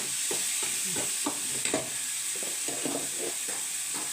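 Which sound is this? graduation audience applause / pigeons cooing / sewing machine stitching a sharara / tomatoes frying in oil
tomatoes frying in oil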